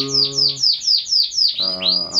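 A female canary chirps in a quick repeating series of bright, sweeping high notes, close and clear. A lower buzzing tone runs under the opening and the closing notes.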